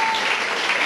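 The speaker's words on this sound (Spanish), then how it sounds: "Aplaude la presencia de Dios Todopoderoso." Church congregation applauding during a Spanish-language worship service, a dense steady wash of clapping filling the whole short moment without a break.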